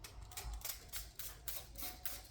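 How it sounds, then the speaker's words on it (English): A spray bottle squirts water onto a glass window before privacy film is applied, giving a series of quick, hissing bursts, roughly six in a row, close and quiet. "So using this spray bottle, you just spray the water like this."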